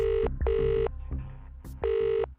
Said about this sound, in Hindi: आई होप वो मेरा फोन पिक कर ले बस।